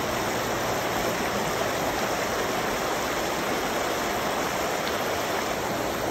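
River water rushes steadily in an outdoor setting near Molave, a dense, unbroken roar of flowing water that stays loud and even throughout, with no voices heard.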